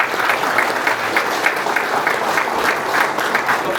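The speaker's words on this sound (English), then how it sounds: "Round of applause for Janet." A crowd at a police department promotions and new hire ceremony claps for Janet, producing dense, loud, sustained applause that stays even for several seconds.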